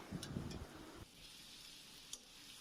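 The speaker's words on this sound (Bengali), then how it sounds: "তেলটা গরম হয়ে গেলে পেঁয়াজ কুচিটা দিয়ে দিলাম পেঁয়াজটা নাড়িয়ে নেব" Chopped onion hitting hot oil in a pan, a soft steady sizzle with a few stirring scrapes early on, then settling into a quiet, even frying hiss.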